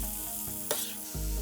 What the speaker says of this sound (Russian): Пока в казане продолжало жариться